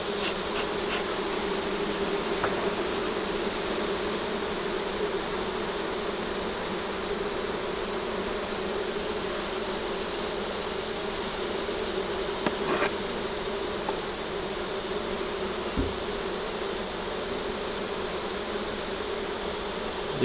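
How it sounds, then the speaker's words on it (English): Honey bees at an open hive with a deep frame of mostly drone brood give off a steady, dense buzzing drone, close and continuous, with a few bees passing nearer now and then. "Okay, close up with the bee."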